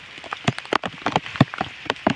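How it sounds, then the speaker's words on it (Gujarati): Heavy raindrops strike a surface in quick, irregular bursts, loud and close, with a constant wash of rain underneath. "ફૂલમ ફૂલ વરસાદ આવે છે"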